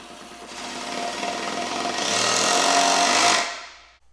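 A power drill drives a 3-inch GRK screw through a pre-drilled hole into the side of a log kayak rack's foot, a sustained grinding whir that builds louder midway and then cuts off.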